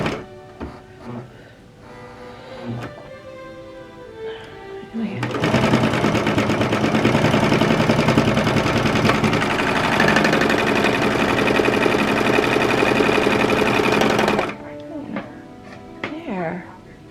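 Serger sewing machine stitching the shoulder seam of a child's sweatshirt, a loud steady whirring run of about nine seconds, with quiet talk and handling sounds before and after.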